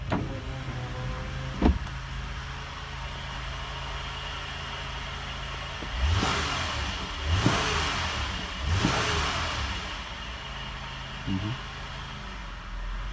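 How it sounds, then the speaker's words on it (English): A Honda Accord Coupe's SOHC engine idles steadily while a power window motor whirs in a few short bursts, with brief revs in between. "I'm gonna open the window for you."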